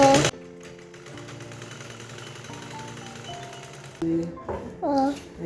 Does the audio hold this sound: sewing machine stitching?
yes